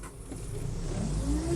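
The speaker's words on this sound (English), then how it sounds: "We're going to go ahead and hit our soft button here, fire up." A 2021 Bobcat T76 R-Series rubber-track skid steer loader with high flow firing up, its diesel engine catching and rising into a steady, close rumble.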